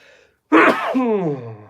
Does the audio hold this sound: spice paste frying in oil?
no